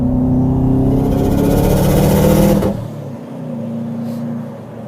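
Subaru WRX engine revs loudly from inside the car, a strong sustained drone that climbs then drops off sharply, followed by a quieter idle-like hum.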